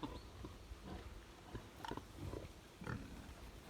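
Month-old piglets grunt and snuffle in short, irregular bursts close by, with a busy farmyard background.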